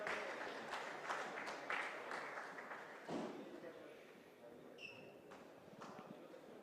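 Applause rises as Team Malaysia walks into the squash court at the opening ceremony of the WSF Under-23 World Squash Championship, a steady wash of clapping with a few sharp claps and a brief whistle-like tone.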